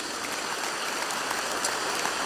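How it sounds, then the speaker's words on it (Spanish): Church congregation applauding in praise of Jesus, a dense, even wash of many hands clapping at once, steady throughout. "alabe a Jesús si quiere hacerlo con ese aplauso y dele gloria al Señor"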